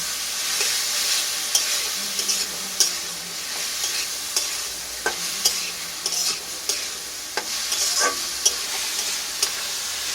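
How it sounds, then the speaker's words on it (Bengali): Chopped tomato and ginger-garlic paste fry in a hot pan for a cabbage and mutton dish, giving a loud, continuous sizzle broken by sharp clicks of a spoon stirring against the pan. "এরপর দিয়ে দিচ্ছি আদা রসুনের পেস্ট। ভালো করে ভেজে নিচ্ছি।"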